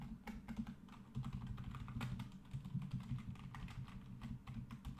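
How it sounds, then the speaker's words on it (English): Keys on a computer keyboard pressed one after another in rapid, irregular clicks and taps, close and fairly quiet, with no talking. "Let's press all the buttons on the keyboard."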